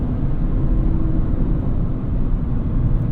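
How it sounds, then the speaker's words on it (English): A Mazda Miata ND1 engine downshifting gives a steady, dense low rumble that holds loud and close throughout without a clear rev break, and no voices are heard. "That engine sounds good downshifted."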